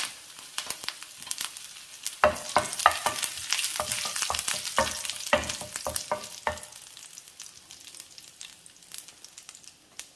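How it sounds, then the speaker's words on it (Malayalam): Dried red chillies and curry leaves dropped into hot coconut oil with popped mustard seeds, crackling and sizzling loudly in bursts with stirring scrapes before settling into a softer steady fry. "കടുക് പൊട്ടിയതിലേക്ക് വറ്റൽമുളകും കറിവേപ്പിലയും ചേർക്കാം."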